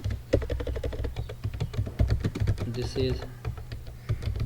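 Rapid clicking of a computer keyboard as C++ code is typed, close and fairly quiet, with irregular bursts of keystrokes while someone speaks over them.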